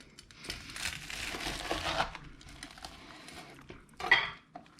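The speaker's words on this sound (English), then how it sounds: "take the BLT and cut it into a triangle" A knife cuts a crispy bacon BLT sandwich with homemade mayo into triangles, the close, quiet crunch of toasted bread and crisp bacon crackling through several strokes, then a short sharper crunch near the end.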